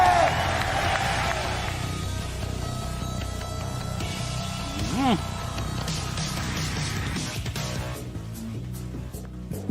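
Crowd at the Evo 2023 Tekken 7 final cheering and clapping for the champion Arslan Ash, a broad wash of applause and shouts in a large venue, with amplified voices over it.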